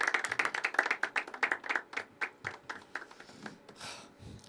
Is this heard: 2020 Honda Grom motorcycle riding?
no